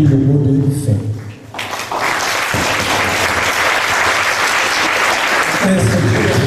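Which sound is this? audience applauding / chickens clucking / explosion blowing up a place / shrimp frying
audience applauding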